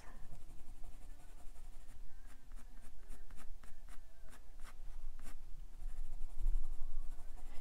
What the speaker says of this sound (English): you don't really have to press hard with the Crayola colored pencils